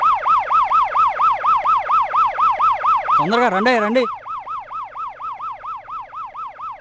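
Ambulance siren wailing in a steady rising-and-falling cycle throughout, briefly joined by a second, lower siren tone in the middle; an urgent voice calls out over it.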